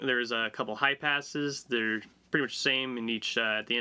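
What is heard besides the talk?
No everyday noise stands out behind the speech.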